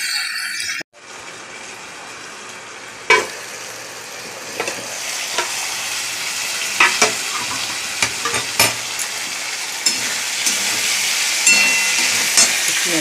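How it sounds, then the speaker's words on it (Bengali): Food fries with turmeric in a pan, a sharp burst of sizzling followed by a continuous hiss punctuated by repeated scraping clicks of stirring, close and with no talking. "একটু হলুদ দিয়ে দিই। ভেজে ভেজে নিই।"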